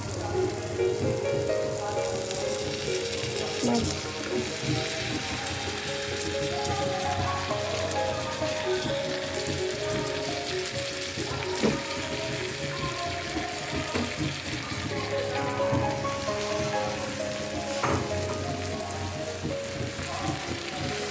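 Shrimp dropped into hot, fried spice paste for a shrimp curry, sizzling with a steady, dense crackle like rain that carries on without a break.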